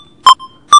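FL Studio metronome set to its beep sound: two short, clean electronic beeps about half a second apart, loud and close, with a faint tone trailing after the first.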